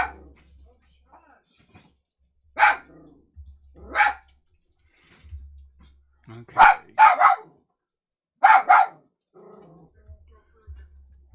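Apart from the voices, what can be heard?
Dachshund dog barking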